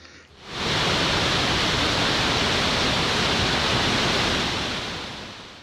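Makshon Falls, where the entire Nile squeezes through a narrow gorge about eight metres wide, roars as a massive, steady wall of rushing water that swells in abruptly and then tapers slightly near the end.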